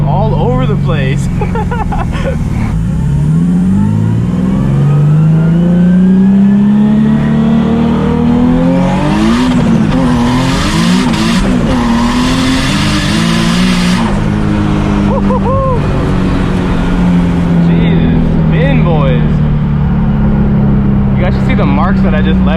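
A 900-horsepower Nissan 370Z Nismo accelerates hard with its wheels spinning, the engine note climbing and falling through loud revs amid tire noise, heard close from inside the car while occupants talk over it.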